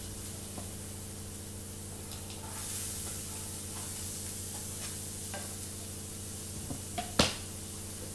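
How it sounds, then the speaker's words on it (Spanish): Bell pepper and carrot stirred into a sizzling sofrito in a pan: a steady soft frying hiss runs throughout under a low hum, with scattered spoon scrapes and a sharp clack near the end. "Ahora vamos a adicionar el pimentón y vamos a adicionar también toda la zanahoria."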